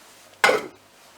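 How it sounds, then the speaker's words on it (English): A pot of stew stirred with a utensil, one brief clattering scrape of metal against the pot, close and fairly loud, then quiet. "Give it a good stir."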